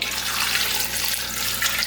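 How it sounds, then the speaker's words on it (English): Tap water runs into a pot of potatoes, a loud close hissing splash that stays steady for the whole moment with no speech. "I'm going to add a bit more water in there."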